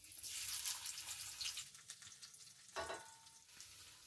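Garlic sizzles in hot oil in a pan, a close, bright crackling hiss that swells and fades with a few sharp pops and a brief splash-like burst.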